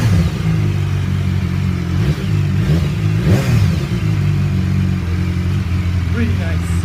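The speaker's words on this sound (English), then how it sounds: "Now with the slip-on, that's it, the slip-on." A 2016 BMW S1000XR motorcycle with an Akrapovic slip-on exhaust, baffle removed, runs loud and close, its deep engine note rising and falling through several revs.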